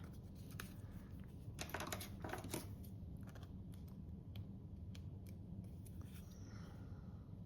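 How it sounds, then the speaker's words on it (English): Scissors trim the edge off a paper card piece, giving a quiet cluster of crisp snips close by against a soft, steady background hush. "let's just trim that edge off there"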